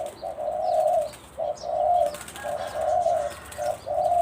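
A dove coos in a steady repeated pattern, each call a soft low phrase, fairly close against quiet outdoor background.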